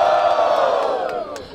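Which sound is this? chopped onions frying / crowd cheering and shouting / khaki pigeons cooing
crowd cheering and shouting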